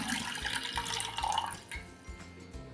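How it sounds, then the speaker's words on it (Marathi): Water runs and splashes steadily from a large bowl into a heated pot for a couple of seconds, a close, continuous pouring sound with no talking. "ह्याच्यामध्ये आपण एक मोठा वाटी पाणी घालूया"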